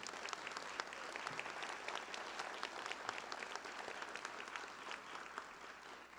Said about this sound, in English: Can we have a round of applause for our faculty?